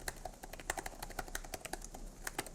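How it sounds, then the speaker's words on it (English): Typing on the keyboard of a Samsung Galaxy Book 4 Pro 360 laptop, a membrane keyboard with a loud, clicky sound: a quick, irregular run of sharp, close key clicks that continues steadily at low overall level. "it has this feel of typing on a mechanical one because the sound is loud and clicky."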